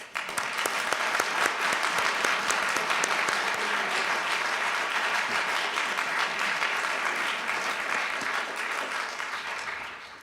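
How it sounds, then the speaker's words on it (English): A school board meeting audience gives a round of applause, dense and even clapping that holds for about ten seconds before fading slightly at the close. "If you don't mind, one more round of applause."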